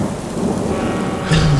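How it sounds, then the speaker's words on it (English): Heavy rain pours steadily with a low rumble of thunder beneath it, part of a stormy scene in an audio drama; a brief tonal sound rises near the end, with no voices. "I hope the rain stops"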